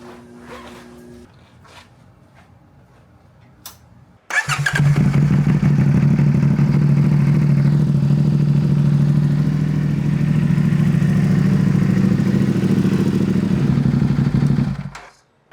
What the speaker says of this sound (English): I'm gonna run the bike for a minute to let the whole engine lubricate itself